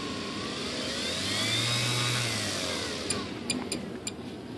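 The motor of an ASH26 2.6 m composite RC sailplane runs on a bench test as the throttle is eased up slowly, giving a steady whirring drone with rising whine tones, followed by a few sharp clicks near the end.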